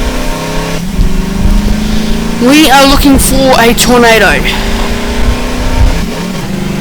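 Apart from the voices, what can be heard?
car engine revving while driving in Garry's Mod video game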